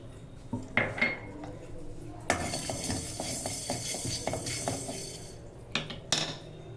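Ingredients for chicken pulao fry in a pan with a broad sizzle, with spoon scrapes and metallic clinks against the pan coming in irregular bursts.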